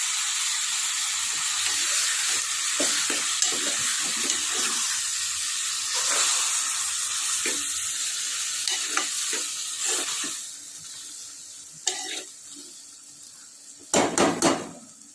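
Half a kilo of tomatoes fry in a pan with a strong, continuous sizzle while a utensil stirs and scrapes in repeated strokes, ending in a few clattering knocks against the pan.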